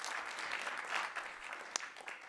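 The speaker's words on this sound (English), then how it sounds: "Let's give him an applause here." Short burst of audience applause at a school board meeting honoring a track and field coach, scattered clapping that is fairly faint and thins out after a couple of seconds.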